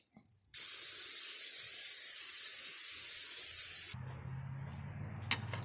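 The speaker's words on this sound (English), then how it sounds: "Then we'll spray it down with some Pam." A single sustained hiss of Pam cooking spray lasts about three seconds, loud and close, then cuts off to quiet background.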